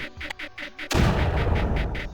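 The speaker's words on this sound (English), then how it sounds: "me using the mortar over there is also gonna help with this problem" A mortar fires in the Creeper World strategy game, a single sudden booming blast followed by a sustained loud rumbling wash, after a stretch of rhythmic pulsing game sounds.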